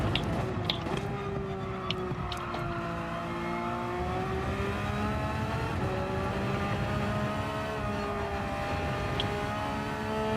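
A Porsche race car engine in Gran Turismo 7 drones steadily at mid revs, its tone shifting slightly as it holds speed around the track, with faint clicks over the continuous hum.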